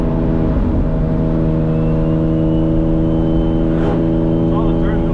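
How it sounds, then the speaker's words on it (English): A single-turbo Infiniti G35 pulls hard in third gear, its engine droning loud and steady with dense harmonic tone throughout, heard from close by. "Okay, I'm gonna do a third gear pull. Watch how hard third gear hits"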